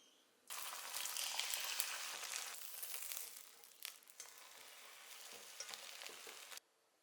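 A thin omelette sizzles in a pan, with a bright crackling fry that starts suddenly, holds steady with small shifts, and then cuts off.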